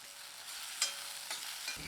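Tomato, onions and red chillies sizzle quietly in a pan, a soft, steady frying hiss with a few faint stirring scrapes.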